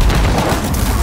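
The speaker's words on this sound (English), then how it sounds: "Freaking explosion!" A loud, dense boom from an explosion in Call of Duty, a continuous blast of rumbling noise filling the whole second with no talking.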